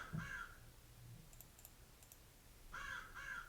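Crow-like cawing played as a sound effect during a tabletop role-playing game: one harsh caw at the start, then two more in quick succession near the end, faint over quiet room noise and light clicking.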